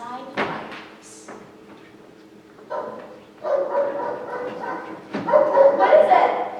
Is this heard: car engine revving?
no